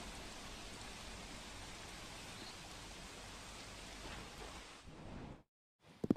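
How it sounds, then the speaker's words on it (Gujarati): Rain falls steadily over Surat as an even, faint wash of hiss that cuts off abruptly near the end. "ક્યાંક ધીમી ધારે તો ક્યાંક ધોધમાર વરસાદ સુરતમાં પડી રહ્યો છે"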